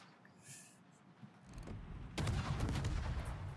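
Naval guns firing in the warship video game World of Warships, a muffled rumble building into a loud, sustained burst of blasts in the second half.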